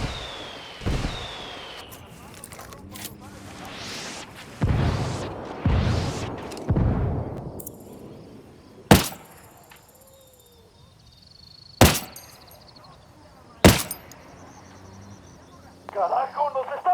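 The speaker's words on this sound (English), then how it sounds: "I'm calling for indirect fire." Several sharp artillery blasts from an indirect fire strike in Ghost Recon Wildlands land in a spaced series of distinct, loud impacts, following rumbling bursts and talk early on.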